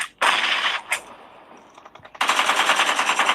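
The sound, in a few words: gunfire in PUBG Mobile video game (Livik map)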